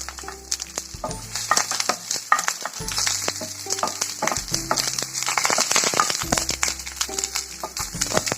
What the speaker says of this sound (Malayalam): സവോളയും ഇട്ട്